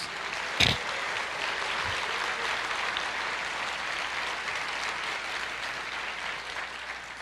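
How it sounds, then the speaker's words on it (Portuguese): A church congregation applauds together in steady sustained clapping that fills the room, with one sharp knock near the start and no speech. "Você pode aplaudir o Senhor"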